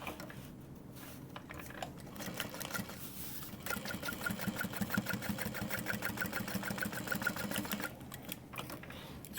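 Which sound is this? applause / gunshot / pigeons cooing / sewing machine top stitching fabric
sewing machine top stitching fabric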